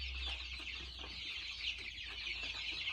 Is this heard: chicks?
yes